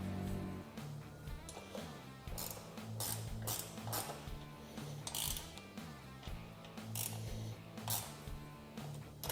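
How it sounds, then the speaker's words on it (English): Mounting hardware is tightened on a roof fitted to a Polaris RZR XP Turbo S, giving quiet repeated ratcheting clicks in uneven bursts, close and faint. "just go ahead and fully tighten your hardware"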